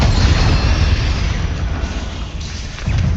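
Explosive Confringo and Bombarda spells in the video game Hogwarts Legacy, a loud continuous barrage of booming blasts and deep rumbling impacts, dense and close throughout.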